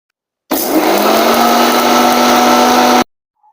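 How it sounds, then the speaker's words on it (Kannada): A kitchen mixer grinder whirs loudly and steadily for about two and a half seconds, grinding cumin, pepper, chili, curry leaves and grated coconut, then stops abruptly into silence. "ಇದೆಲ್ಲನೂ ಮಿಕ್ಸಿಗೆ ರುಬ್ಬಕ್ಕೆ ಹಾಕ್ಕೊಳ್ಳೋಣ"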